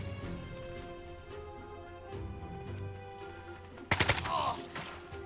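A short loud burst of rapid gunfire from the tactical video game Jagged Alliance 3 erupts near the end, a few sharp cracks in quick succession over quiet background game ambience.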